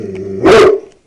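A dog gives a single loud, sharp bark close by, rising out of a low steady hum and then fading into quiet.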